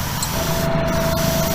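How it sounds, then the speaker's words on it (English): An airbrush sprays Createx paint in a steady close hiss with a constant high tone throughout a short test burst before painting a Hot Wheels Bone Shaker car. "Test spray."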